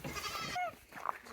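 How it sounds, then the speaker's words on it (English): Goats bleat on a farm in short, wavering cries, fairly close, over a soft background of movement. "Hey, big goats."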